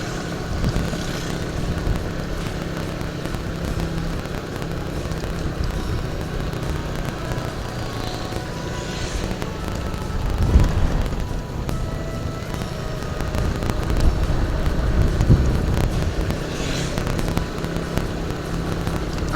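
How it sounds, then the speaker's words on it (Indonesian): Strong wind roars and buffets around a vehicle on a hilly road near Cepogo, Boyolali, a loud continuous rumble with surging gusts that swell mid-way and again near the end. "Anginnya gede banget."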